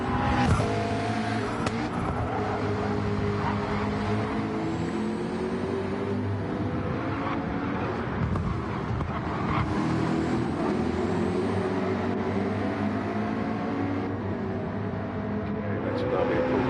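Race cars on a track, including a Lamborghini Murcielago, with steady loud engine drone, shifting revs and occasional passes, heard as a continuous roar under broadcast commentary.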